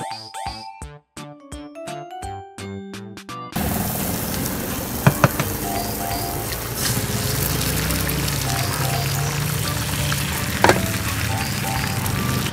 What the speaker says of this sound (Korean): 계란이 순식간에 퍼져.